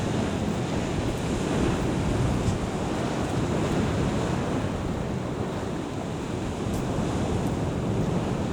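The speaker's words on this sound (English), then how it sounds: "We'll let people listen to the sea" Sea surf washing onto the shore at Blackpool, a loud, steady roar of breaking waves with wind buffeting the microphone throughout, no voices.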